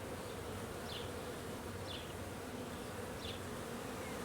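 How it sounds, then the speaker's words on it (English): Honeybees buzz at the hive in spring as a continuous steady hum, with a few individual insects passing close by at intervals. "the bees are going crazy. I don't think I've ever heard them this loud"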